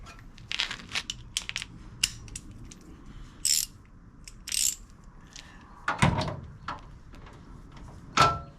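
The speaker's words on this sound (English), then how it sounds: "I got tired of turning the wrenches. Now this is just a little 3/8" A 3/8 inch ratchet wrench turning bolts during a Chevelle body drop, heard as scattered short bursts of clicking and mechanical crunching, close by, with quiet pauses between.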